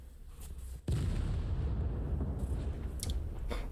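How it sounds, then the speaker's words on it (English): A nuclear explosion in the video game Final Fantasy VII erupts as a sudden heavy boom, then settles into a sustained rumbling roar with scattered crackles, fairly quiet overall. "A nuclear explosion?"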